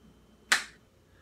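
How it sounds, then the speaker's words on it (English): A single crisp finger snap, close and sharp, standing alone against a quiet room. "I'm just going to snap my fingers here"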